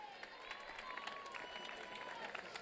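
Applause and crowd noise fill a drag queen gala in Telde, a steady wash of clapping with a host's voice carrying over it throughout.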